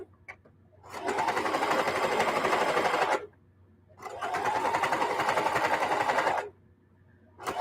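A sewing machine stitches quilted jelly-roll placemats in two long steady bursts of rapid, even mechanical chatter, each lasting about two to three seconds and separated by short pauses, with a third run starting at the end.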